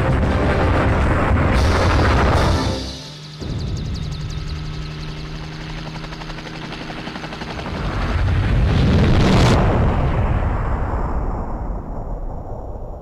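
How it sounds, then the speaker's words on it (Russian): An explosion roars through the final boss stage of Resident Evil Survivor, loud sustained rumble with a dip and then a swelling blast, layered over droning game sounds and tones. "Десять секунд до взрыва."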